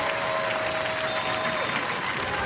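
A studio crowd at a Robot Wars robot-combat show gives steady, dense applause for a three-generation robot-building family, loud and continuous throughout.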